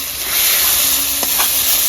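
Mustard paste hits hot oil with fried garlic in a pan and sizzles loudly and steadily, a bright hiss with a couple of faint stirring clicks.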